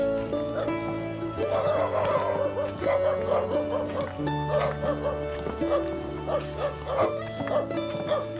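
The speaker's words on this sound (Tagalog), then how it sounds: "maraming aso" Several dogs near a house bark and yip repeatedly, fairly close and loud, with whimpers mixed in among the steady barking. A voice talks over them.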